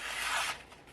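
A knife blade, a Spyderco Para3 LW, rubs across an extra fine sharpening stone to strip off the burr, making a steady close scraping swish that fades after the first half second.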